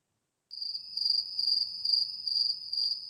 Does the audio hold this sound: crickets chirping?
yes